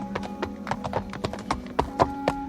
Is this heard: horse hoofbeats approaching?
yes